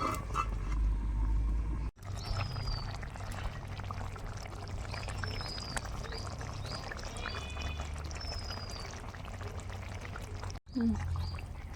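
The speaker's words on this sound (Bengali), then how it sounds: "আবার একটু সেন্ট আনার জন্য দেবো এক থেকে দেড় চামচ কেওড়া জল" A spoonful of kewra water is poured into simmering chicken rezala, giving a steady wet pouring wash that runs for several seconds over a low cooking rumble, broken by short cuts.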